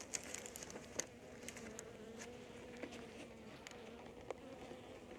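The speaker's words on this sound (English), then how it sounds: "There's a million bees in there." Soft, continuous buzzing of a huge population of honey bees packed together inside a hive in midwinter, with occasional sharper individual buzzes and faint clicks poking out of the hum.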